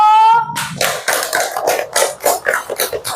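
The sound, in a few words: children clapping hands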